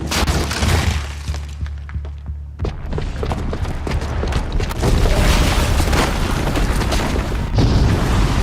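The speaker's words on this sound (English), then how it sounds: "the booby trap on the bomb downstairs is gonna get set off" Booby-trapped bomb detonating in Horizon Zero Dawn, a loud deep boom with a sustained low rumble, followed by crashing, shattering debris and continuous heavy crumbling that swells and persists throughout.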